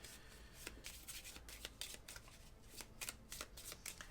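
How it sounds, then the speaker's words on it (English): A deck of Marvel Champions cards is shuffled during a tabletop game, giving a steady run of quick papery riffles and snaps at close range, with no talking over it. "So I need to shuffle"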